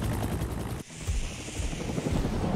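Helicopter arriving in the video game Predator: Hunting Grounds, a steady loud rotor and engine roar with a whooshing wash that dips briefly and then returns, filling the whole stretch without talk.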